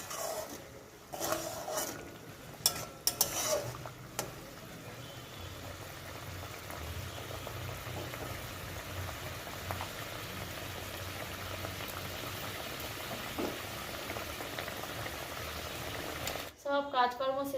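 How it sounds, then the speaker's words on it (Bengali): Fish curry, with pre-fried fish to be added, bubbles at a steady simmer in a pot, a continuous soft boil with a few clinks and knocks near the start and end. "মাছের ঝোলটা ফুটে গেছে, এর মধ্যে দিয়ে দেবো মাছগুলো।"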